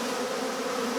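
A steady, dense drone of many honeybees buzzing from an opened hive that holds a caught swarm, close and continuous for a brief moment, with no voices.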